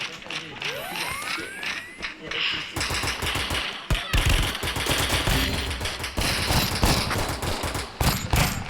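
Video game gunfire crackles in dense rapid bursts, loud and close, broken by short gaps, while voices talk over the shooting.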